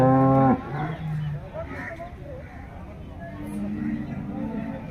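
A large second-calving crossbreed cow with six teeth at the Loni cattle market in Maharashtra lets out one loud, close moo at the start, followed by background market chatter and someone talking.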